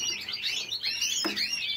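A small green bird with a yellow tail chirps repeatedly in quick, high, sweeping tweets, close and fairly loud, with no talking.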